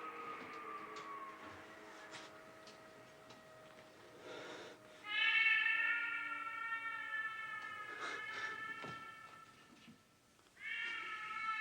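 A cat in a film scene gives several long, drawn-out meows that rise and fall almost like a siren, heard fairly close against a quiet background.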